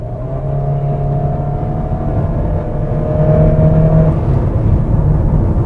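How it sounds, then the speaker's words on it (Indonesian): A Honda HR-V facelift with a CVT gives off a steady, constant-pitch engine whine under kick-down acceleration, a droning hum inside the cabin that swells slightly louder partway through and does not rise in pitch. "Jadi kayak suara ngeng gitu, dan ngengnya tuh konstan, bukan naik. Jadi tuh suara CVT ya begitu"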